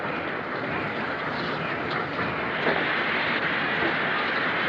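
A train at a railway station, heard as a steady, loud rumble with faint clatter throughout, unbroken and without clear voices on top.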